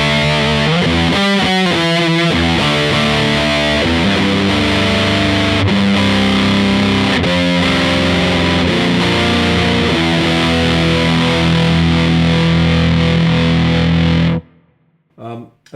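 An electric guitar played through an EarthQuaker Devices Hoof Reaper fuzz pedal gives thick, saturated fuzz chords and sustained notes, loud and close, ending in a sudden cutoff with a brief voice after.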